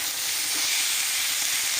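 Turmeric frying in a pan with greens and salt, a steady, close broadband hiss and sizzle running unbroken throughout with no voices.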